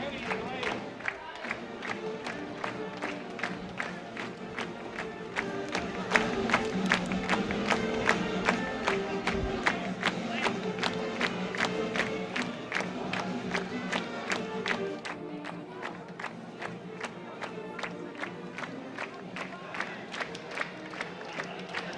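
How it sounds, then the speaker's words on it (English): Crowd in the stands at a high school football game cheering and yelling continuously, with rhythmic clapping or stomping running through the noise for the whole stretch. "We got a good crowd tonight."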